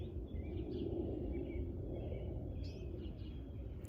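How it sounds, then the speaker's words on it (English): Birds sing faintly in a backyard with feeders, giving a few scattered, distant chirps and short calls over a low steady background murmur. "maybe you can hear some birds in the background."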